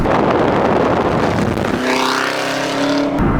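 An 800-horsepower 2017 Yenko Camaro with an eight-speed automatic pulls hard under acceleration, its loud engine roar climbing in pitch through a gear and then cutting off abruptly near the end, with wind rushing over the car.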